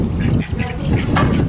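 Several ducks quacking close by in loud, overlapping bursts, some honk-like calls mixed in, with a brief dip before a sharper cluster of quacks near the end.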